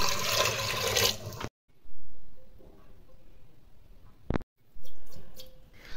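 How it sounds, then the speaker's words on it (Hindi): Water is poured into a pressure cooker holding soaked moong dal, heard as a loud splashing gush that cuts off, then a brief trickle and a second pour, close up with no voices. "कुकर में डाल रही थी मूंग दाल भी, इसमें मिक्स कर देंगे और इसमें पानी डाल देंगे।"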